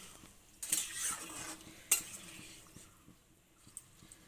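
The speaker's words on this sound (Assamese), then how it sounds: "এতিয়া মই অকণমান লাৰি চাৰি দিওঁ" Stirring pumpkin curry with soybeans in a cooking pot, quiet scraping and scattered clinks of a spoon against the metal, with a couple of sharper knocks over a low background.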